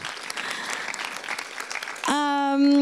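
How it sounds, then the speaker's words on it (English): Audience applause for the team at the re:connecting Europe 2017 welcome: a steady wash of crowd clapping for about two seconds, then cut off by a loud sustained electronic tone. "Another round of applause for everybody in the team as well."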